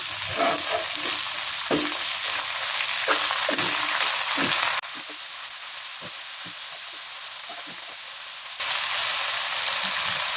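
Tauco, a fermented soybean paste, fries loudly in a pan under a steady hissing sizzle, with scraping stirring strokes early on. The sizzle drops suddenly to a quieter level, then surges back near the end.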